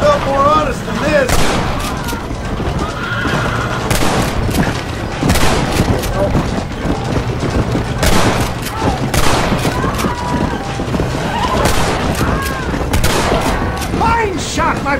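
Heavy, continuous gunfire and booming blasts in Red Dead Redemption during the raid on Fort Mercer, rapid overlapping shots with voices shouting underneath.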